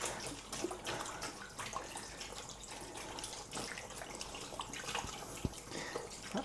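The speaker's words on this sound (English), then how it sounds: "I'm going to get my hands washed a little bit." A kitchen tap runs steadily while hands are rinsed after kneading pizza dough, a continuous close splashing hiss with small irregular drips and knocks and no talking.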